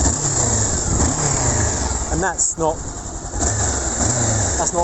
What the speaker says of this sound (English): If I give her a rev